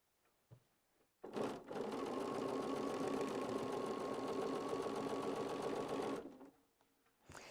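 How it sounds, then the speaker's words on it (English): A sewing machine stitches a small fabric scrap in a home sewing room, a steady close whirring run of about five seconds, with a few quiet knocks just before it starts and after it stops. "so I'm just sewing my little scrap in there"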